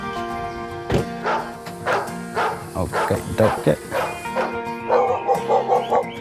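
Elderly dog Zenki barks repeatedly in an excited, rowdy welcome indoors, a string of close, loud woofs and yips mixed with people talking.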